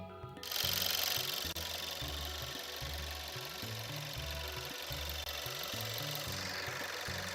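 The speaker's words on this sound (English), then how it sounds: "There you got some engine noise." An engine runs steadily with a loud, rhythmic low chugging pulse repeating throughout, continuous and close, with no talk over it.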